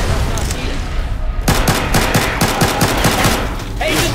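Dual pistols firing in Left 4 Dead, a loud rapid string of about a dozen sharp shots in quick rhythm, with game noise throughout.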